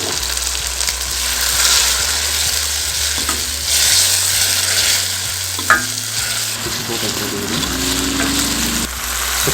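Leftover cooking water from boiled chicken is poured into a hot pan of shredded chicken, setting off a continuous sizzle and bubbling fry with a few scraping stirs and a sharp clink partway through.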